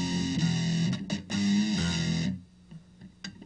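Electric guitar run through a Boss DS-1 distortion pedal and a DD-7 delay, a loud, fuzzy sustained chord passage with a few chopped hits that cuts off, leaving faint delayed echoes ringing out.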